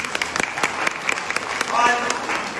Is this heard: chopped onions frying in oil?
no